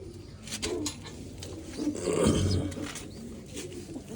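Pet pigeons give a low coo near the middle, surrounded by scraping, rubbing noises and light rustling close by.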